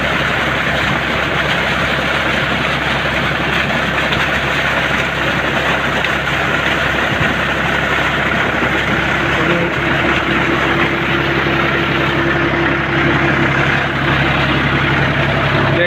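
Mahindra 265 DI tractor engine running steadily while driving a PTO water pump, a loud, close, continuous low rumble and drone with no pauses and no voices.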